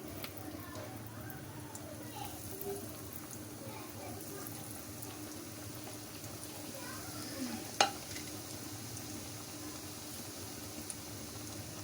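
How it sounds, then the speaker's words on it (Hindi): Chicken samosa patty filling fries in hot oil over a low to medium flame, giving a soft, continuous sizzle with faint stirring and one brief clink, all fairly quiet and even. "लो टू मीडियम फ्लेम पे हम फ्राई करेंगे।"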